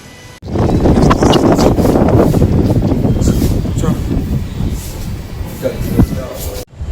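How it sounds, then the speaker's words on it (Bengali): Strong wind roars across a top-floor terrace in Puri, buffeting the microphone with a loud, continuous low rumble for several seconds, with a voice briefly audible beneath it. "যা হাওয়া দিচ্ছে উপরে, বাপরে বাপ।"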